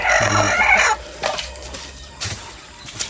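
Chickens cluck loudly nearby in a burst, then a few quieter scattered clucks follow against a background of outdoor noise.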